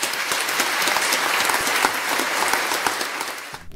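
A studio audience applauds warmly for a few seconds, many hands clapping in a dense continuous wash that tapers off at the end.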